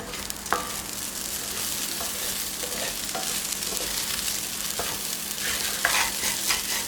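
Firik pilaf ingredients, smoked green wheat among them, being sautéed and stirred in a pan, giving a steady loud sizzle with scattered scraping clicks from a utensil against the pan throughout.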